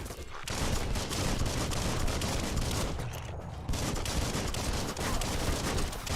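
Rapid gunfire from a gun in Biomutant rattles almost nonstop, loud and dense bursts with only a brief pause, close up and with no talk over it.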